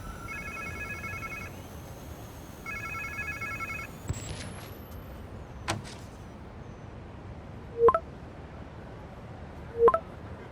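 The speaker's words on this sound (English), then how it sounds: "Sounds like somebody's phone." In the video game Marvel's Spider-Man 2, a phone rings twice in a pulsing electronic trill, followed by a couple of sharp clicks and distant knocks against a quiet ambient background.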